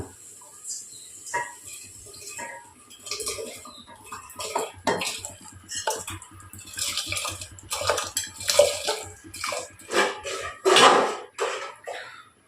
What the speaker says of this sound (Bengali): এবার হাঁড়িতে আমরা কি করব, চালগুলো ঢেলে দেব